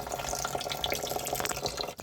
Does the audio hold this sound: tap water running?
yes